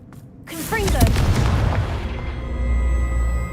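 A Confringo blasting curse in Hogwarts Legacy detonates with a loud, close boom that swells into a long, heavy rumble and slowly fades, with nothing else heard over it.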